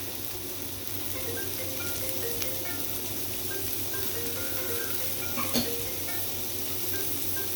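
Carrots, capsicum and onion frying in a pan for mixed vegetable kebabs, giving a steady, even sizzle throughout with a faint clink of utensil near the end.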